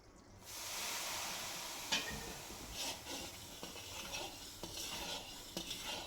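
Continuous stirring of a mixture while oil is poured in steadily, a soft sizzling hiss with scattered scraping clicks of a utensil against the pan, close and fairly quiet, no voices.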